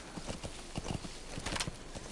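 Horse hooves clip-clopping in a quick, uneven rhythm, fairly close, with a faint soft background hum, in the video game Metal Gear Solid 5.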